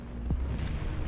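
Sherman tank cannon (M4A3E2 Jumbo, 76mm) firing in War Thunder: a single heavy boom near the start, set against a steady engine rumble and battle din.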